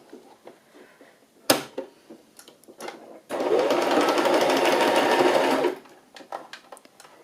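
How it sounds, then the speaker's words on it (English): A sewing machine stitches fabric ruffles in one steady run of about two and a half seconds, after a sharp knock and some soft handling noises. It sounds close and fairly loud. "Try not to sew over my pins. Really don't want to break my needle."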